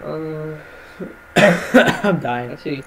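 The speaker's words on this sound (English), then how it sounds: "That was a cough." A single sharp cough bursts out mid-clip, loud and close, set between stretches of a person talking and a short hum or chuckle.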